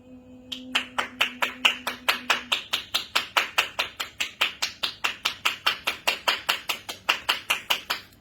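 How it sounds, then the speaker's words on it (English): Hands clap in a fast, steady rhythm, dozens of sharp claps close by, with no talking. "Clapping's used to break up energy."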